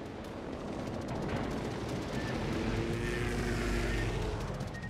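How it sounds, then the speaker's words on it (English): Warship guns booming in a World of Warships naval battle, heard over a constant roar of engines and sea, with dull repeated thuds rumbling through a thick, continuous background. "Now I've got two ships firing at me"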